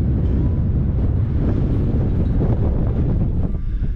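Strong wind buffets the microphone on a hilltop overlooking Shropshire and Wales, a continuous loud low roar with gusting rumble throughout, no talk.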